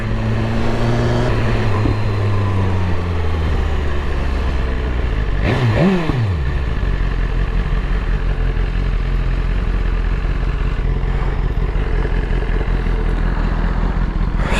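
A BMW S1000RR motorcycle rides along damp roads, its engine note rising and falling under heavy, constant wind roar that fills the whole stretch.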